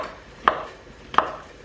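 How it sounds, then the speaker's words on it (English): A knife cuts through mushrooms on a board in a home kitchen, giving two crisp, close chopping knocks about three-quarters of a second apart against a quiet background. "And then you just cut them"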